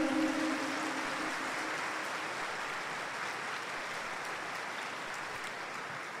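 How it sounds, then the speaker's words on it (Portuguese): A church congregation applauds during an Epiphany Mass homily in honor of the Three Kings, a dense, even wash of clapping that slowly thins over several seconds. "uma salva de palmas para os santos reis"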